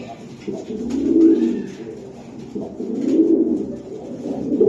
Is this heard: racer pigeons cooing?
yes